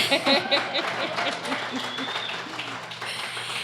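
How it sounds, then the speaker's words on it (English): A live audience at a festival podcast taping claps in a dense burst of applause, loud and close, with a few chuckles and voices mixed in. "Claps."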